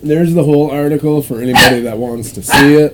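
Dogs bark and yip a few times in the background while someone talks steadily over them.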